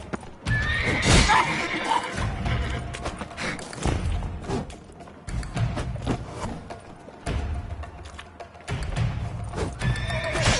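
Horses whinny and neigh loudly in a Witcher 3 game scene, over repeated heavy clip-clopping hooves and thuds, with the sounds close and busy throughout.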